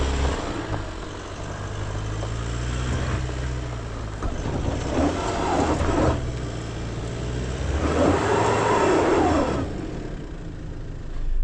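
A 2025 GWM Tank 300 2.4 diesel off-road with two diagonal wheels spinning freely: a steady engine drone with revs rising and falling, and surges of rough tire and ground noise building twice, continuous and close.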